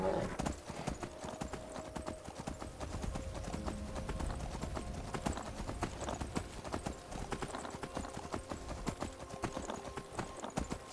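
Horse hooves clip-clopping in the video game Skyrim, a steady rhythmic trot of hoofbeats over ambient game sound, moderately close, with faint talk underneath.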